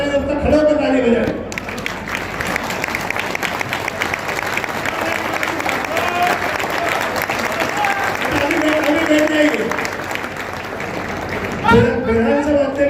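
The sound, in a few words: audience applause at a journalists' association convention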